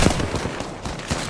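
Rapid gunfire in the video game Apex Legends rattles in dense, loud bursts close up, with no talking over it.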